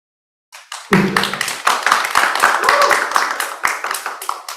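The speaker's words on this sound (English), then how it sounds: "So let's give a big round of applause for all of you." Audience applause at the BIM Automation Arena 2023 information day, starting after a short silence and building into steady close clapping that lasts several seconds with a faint voice under it.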